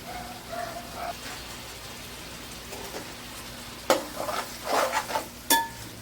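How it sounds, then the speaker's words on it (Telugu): Jackfruit biryani masala with spice powders, yogurt and lemon frying in oil, heard as a soft continuous sizzle with a few sharp spoon scrapes and clinks near the end, close by and with no talk. "ఒక రెండు నిమిషాలు మనము ఈ ఆయిల్లో మొత్తం పట్టే విధంగా కలిపేసుకొని ఫ్రై చేసుకుంటే సరిపోతుందండి"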